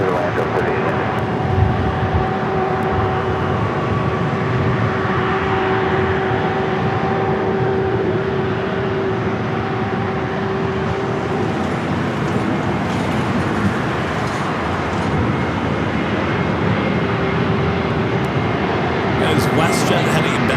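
A Delta Airbus heavy airliner on approach to land at LAX gives a loud, steady jet roar that fills the whole stretch, with tower radio chatter running beneath it.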